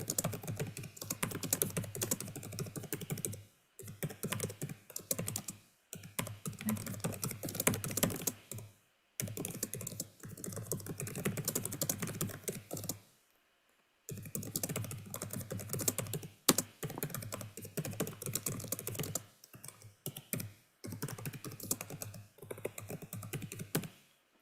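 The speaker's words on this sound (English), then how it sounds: "I was typing an answer to another question that came up while you were there" Rapid typing on a computer keyboard, dense bursts of clicking keystrokes separated by short pauses, close and steady with no talking.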